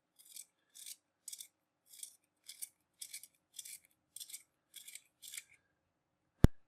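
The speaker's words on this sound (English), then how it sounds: "let's just go with normal pencil sharpening here." A graphite sketching pencil is turned in a sharpener with about ten short, crisp grinding bursts in a steady rhythm, heard close and quiet, followed by one sharp click.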